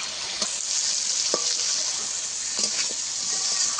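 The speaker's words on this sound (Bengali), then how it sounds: "এবার টমেটো দিয়ে কষাতে থাকবো।" Potato and tomato frying with spices in a pan give a steady close sizzle, with a few sharp clinks of a utensil stirring and scraping the pan.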